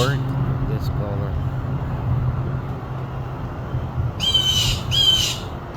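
A small, brightly colored bird held in a hand gives two loud, harsh squawks close by near the end, with a few quieter chirps earlier over a steady low background hum.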